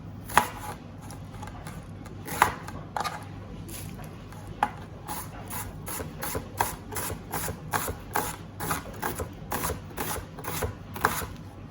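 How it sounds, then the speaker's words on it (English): A knife chops an onion steadily on a cutting board, sharp close thuds in an even rhythm, with a faint low hum in the background. "So I'm going to start by chopping my veg."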